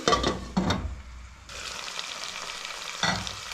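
Ginger garlic paste sizzles and fries in a pan for Uttara Karnataka style mandakki usli. There is a steady close hiss with a few louder bursts of stirring and crackle, and no voices.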